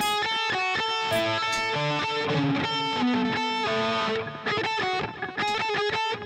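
Electric guitar playing a pedal-tone riff, a steady stream of fast, evenly picked distorted notes with a repeated low anchor note, loud and close with no talking.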